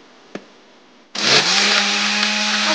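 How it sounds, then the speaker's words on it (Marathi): Mango smoothie with added milk whirring in a blender: a brief tap, then a loud, steady motor roar that starts abruptly and runs on without letup. "दूध घालून परत एकदा फिरवून घेऊया."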